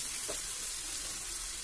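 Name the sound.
garlic, Kashmiri chillies and green chillies sautéing in oil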